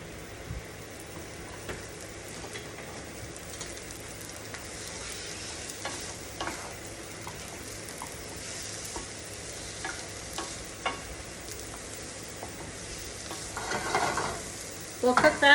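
Chopped lemongrass and shallots sizzle in a pan while being stirred, a steady soft crackle with occasional scrapes and a louder clatter near the end, no voices.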